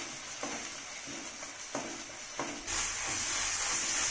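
Masala sautés in a frying pan with a steady sizzle, broken by several soft stirring scrapes before the hiss swells louder near the end.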